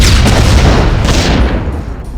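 A grenade bursts from a walking mech in BloodRayne, a loud, rumbling boom with heavy low-end that fills the moment and slowly decays, alongside gunfire-like crackle.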